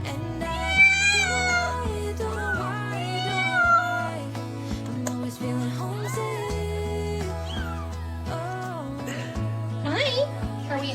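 A cat meows repeatedly in long, wavering, drawn-out calls, loud and close, over steady music with a bass line playing underneath.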